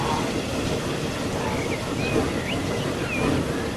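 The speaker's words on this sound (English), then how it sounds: "There's a train just approaching now." A train rumbling toward a double railroad crossing in the game Transport Fever 2, a steady broadband rolling noise with faint high squeals, continuous and moderately loud throughout.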